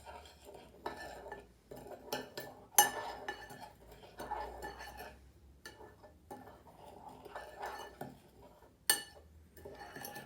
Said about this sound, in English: And stir to combine.